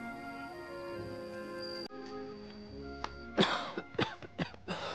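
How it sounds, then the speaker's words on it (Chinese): Several short, rough coughs in quick succession, close and fairly clear, come from an unwell elderly father in a Qing-dynasty costume drama. They follow a quiet stretch of soft music that fades out. "就是有点咳嗽"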